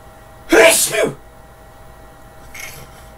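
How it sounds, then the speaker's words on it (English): A single loud, sharp human sneeze bursts out close up, followed by a fainter breathy exhale or second small sneeze a moment later, from someone who is sick. "I'm going to sneeze again, hold on."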